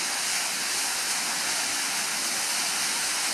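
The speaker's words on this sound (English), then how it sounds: "That's just a certain amount of water that they let through the riverbed to keep the river flowing." Steady, loud roar of water released through the McClure dam on the Dead River near Marquette, Michigan, a continuous broadband rush with no pauses and no voices.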